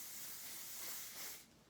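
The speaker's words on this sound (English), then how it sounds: "I'll spray down with that Living Proof Control Spray" Living Proof Control hair spray is sprayed in one continuous, soft airy hiss lasting under two seconds, steady and close, trailing off at the end.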